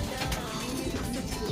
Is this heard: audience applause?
no